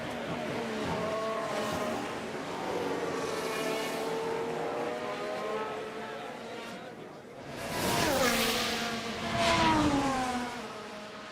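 F1 race cars in the video game F1 Manager 24 pull out of the pits at Abu Dhabi. Their engines whine and rise in pitch as they pass, loud and close, with commentary over them.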